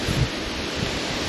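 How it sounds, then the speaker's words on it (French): A strong north wind buffets the microphone outdoors during a cycling stage in rural France, producing a loud, continuous roaring rush with a gusty thump near the start. "J'ai un vent de nord très désagréable."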